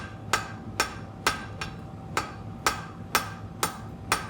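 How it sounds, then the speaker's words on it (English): Sharp, ringing hammer blows on hot metal being forged, about nine evenly spaced strikes over a low background hum, close and clear. "My hammer's only going up and down, up and down, up and down"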